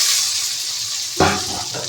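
Curry leaves are dropped into hot oil for tempering a dried-fish curry, a quiet background hiss suddenly bursting into a loud, close sizzle that then settles.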